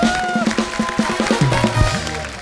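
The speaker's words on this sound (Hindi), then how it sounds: "नवाज भाई के लिए जोरदार तालियां।" A studio audience at a comedy talk show cheers and claps for actor Nawazuddin Siddiqui, loud crowd noise with music tones underneath, lively and continuous.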